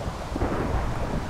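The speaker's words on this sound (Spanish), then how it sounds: "Ha sido un trueno, ¿qué ha sido eso?" A rumble of thunder from the Minecraft video game rolls through as a dense, continuous low roar with some rain-like hiss. It is steady and fairly loud, with nobody speaking.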